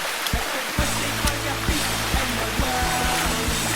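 River water rushes steadily with a broad hiss during a river walk after heavy rain, while a regular low thumping beat pulses through it.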